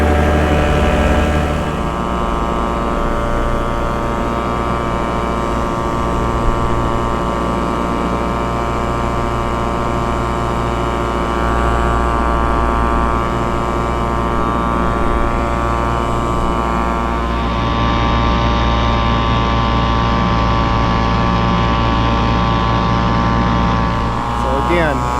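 A SkyMax Star Frame drone on its first flight gives off a loud, steady multi-rotor whine that holds throughout, with faint changes in pitch as it hovers nearby.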